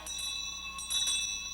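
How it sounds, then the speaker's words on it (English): A school bell rings continuously and fairly loud with a bright metallic ring, swelling slightly near the end, with no talk over it. "Ooh, there goes the bell."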